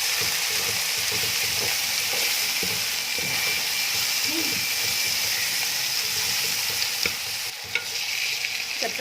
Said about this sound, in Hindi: और चंद सेकंड भूनने के बाद हम इसमें टमाटर और 1-2 सब्ज़ मिर्चें कटी हुई ऐड कर देंगे।